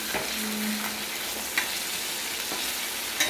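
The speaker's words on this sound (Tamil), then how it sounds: "மீன் சேர்த்துட்டு அடுப்பை மிதமான தணலில் வச்சு நல்லா பொரிச்சு எடுத்துடலாம்" Fish frying in a pan over medium heat, a steady close sizzle with faint crackles and a few brief utensil scrapes, no voices.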